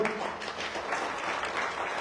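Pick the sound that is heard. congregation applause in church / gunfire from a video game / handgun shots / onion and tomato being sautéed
congregation applause in church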